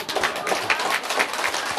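A small audience claps in rhythmic, separate bursts, the beats falling roughly every quarter second, close and moderately loud with a faint crowd murmur underneath.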